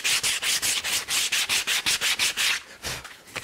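Hand sanding of an ash wood shoe last: brisk rhythmic rubbing strokes, about sixteen in quick regular succession, close and clear with no talk, slowing near the end.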